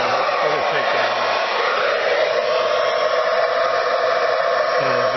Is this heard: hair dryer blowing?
yes